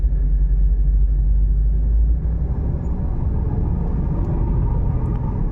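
A car drives along a road with a steady, low engine and tyre rumble heard from inside the vehicle. The rumble is louder in the first two seconds and then settles into a continuous drone.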